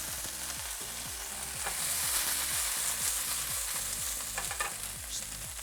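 Green bean vines sizzle and crackle as they fry in bacon grease in a pan, a steady bright sizzle with stirring and scraping, close and continuous with no talking.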